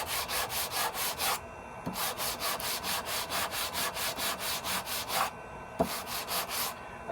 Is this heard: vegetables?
no